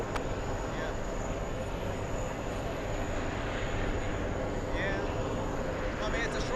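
An airliner on a short flight from DC passes nearby, its engines producing a steady, loud broadband roar that continues evenly from start to finish, with faint voices underneath.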